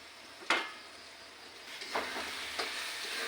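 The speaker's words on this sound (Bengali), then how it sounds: "এবার দিয়ে মশলাটা ভালো করে ভেজে নেব" Spice masala frying in a pan for chicken jhal tarka, with chilli powder and salt: a soft steady sizzle broken by three sharp scraping stirs of a spoon, close and fairly quiet.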